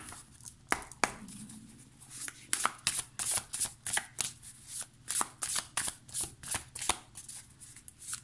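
A Muse Tarot card deck is shuffled close up in a quick series of crisp riffling and slapping bursts, repeating rhythmically throughout with no talking.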